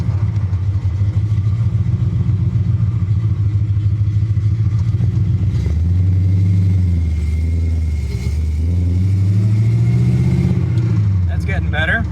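An EFI-converted AMX car engine idles roughly with a steady, low rumble, then revs up in two rising and falling swells as the gas is pressed with the clutch in, loud and close.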